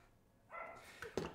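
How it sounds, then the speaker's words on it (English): Small Tibetan Terrier barking indoors in a kitchen, a couple of short yips near the end of the clip, fairly faint and close, with no talking. "the barking that you hear is my dog Avery and her best friend forever, Fergus."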